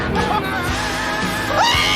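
A woman screams and yells in panic inside a speeding McLaren driven hard through corners, with loud, strained cries over steady cabin and engine noise.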